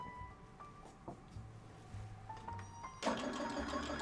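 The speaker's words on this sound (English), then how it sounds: "so now I'm gonna do the placement stitch for the football" An embroidery machine stitches a placement outline on a sequin hoodie, a low rhythmic mechanical whir that grows louder and denser in the last second, steady and close with no talk.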